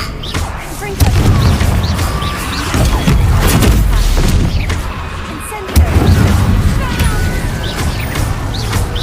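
In the video game Hogwarts Legacy, the Incendio fire spell is cast with loud, booming bursts of flame and crashing impacts over several seconds, a second heavy blast hitting midway, with rumbling game effects throughout.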